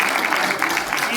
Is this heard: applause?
yes